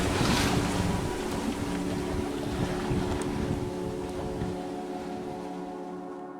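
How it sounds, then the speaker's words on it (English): Steady wash of wind and gentle water sounds aboard a sailboat moving in light winds on a calm ocean, constant and fairly loud with microphone wind rumble and no talking. "sailing along in light winds and a very calm ocean"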